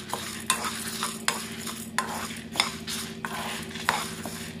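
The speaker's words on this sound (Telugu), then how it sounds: "కందిపప్పు అలాగే ఎండుమిర్చి చక్కగా వేయించేసుకుంటున్నాను." Toor dal and dried red chillies are dry-roasted in a pan on low heat, with a steady rhythmic scraping and stirring of a metal spoon over a soft sizzle.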